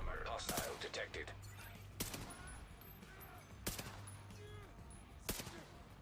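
Incendiary rounds fire in scattered bursts and single cracks during The Division 2 combat, with a few sharp loud shots standing out over steady low rumble and background game chatter.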